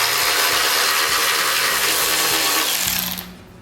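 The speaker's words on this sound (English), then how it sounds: "Remove all these 3/8 screws all the way around the cover." Power tool, likely an impact driver, removing 3/8 screws around the cover of a Kohler Magnum 20 mower engine; a steady loud whirring with short stutters runs about three seconds, then cuts off.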